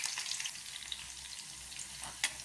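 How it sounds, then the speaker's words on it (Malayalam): Small shallots, sliced into thin rounds, sizzle steadily in hot oil, a continuous soft crackle with one brief louder spatter near the end and no voices. "ചെറിയ ഉള്ളി ഇതുപോലെ തന്നെ നമ്മൾ ഗോൾഡൻ കളറാവുന്നവരെ ഫ്രൈ ചെയ്തെടുക്കുക"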